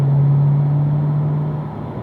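A car on a race track holds a steady, loud engine drone with a sustained low hum, heard from inside the cabin for about two seconds with no talk.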